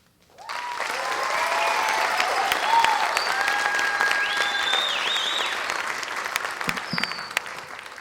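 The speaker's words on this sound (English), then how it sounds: "Can I get another round of applause for everyone here tonight?" A high school graduation crowd gives a round of applause, rising quickly into sustained loud clapping with cheers and whoops scattered through it, thinning toward the end.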